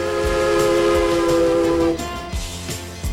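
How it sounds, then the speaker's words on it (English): A loud, chord-like steam train whistle sounds for about two seconds at a street crossing on the Durango & Silverton narrow-gauge railroad, then cuts off, leaving the rumble and clatter of the moving train. "Whistles for each street crossing are answered by waves from townspeople all along the track."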